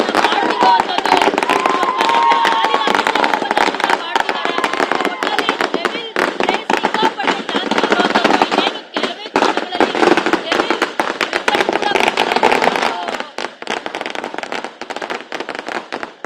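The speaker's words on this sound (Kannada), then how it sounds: "ನೋಡ್ತಾ ಇರೋದು ಪಟಾಕಿ" Firecrackers burst in dense, loud volleys outside the Nartaki theatre as fans celebrate the release of Darshan's movie Devil. The rapid crackling runs almost without pause over a noisy crowd, with voices shouting and talking throughout.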